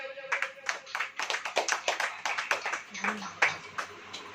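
A worship congregation claps along in a Hindi church service, steady bursts of many hands at moderate volume, with a low voice or tone murmuring underneath.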